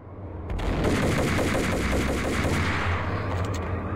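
Rapid gunfire fills a Max Payne video game fight, a dense, steady burst of shots that runs almost the whole time at an even loudness, with no talk over it.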